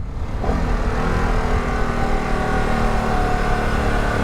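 A 2022 Harley-Davidson Pan America motorcycle riding on a winding road, engine pulling up through the revs with a steady drone under loud wind rush, heard close from the rider's position.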